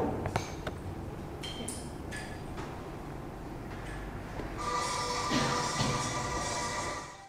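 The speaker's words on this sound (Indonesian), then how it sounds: "Berikut adalah contoh suara dari angklung." A Sundanese bamboo angklung is shaken in a classroom: a few quiet scattered clinks and pings at first, then a sustained trembling bamboo rattle with ringing pitched tones for the last few seconds.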